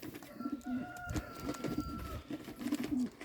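Yellow Czech show pigeons in a new loft cooing in soft repeated rolling calls, close and fairly quiet, with faint background noise.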